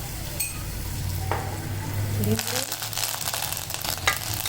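Asafoetida and garlic sizzle in hot oil with a steady frying hiss, close and continuous, a brief stir and crackle bursts breaking through near the middle and end.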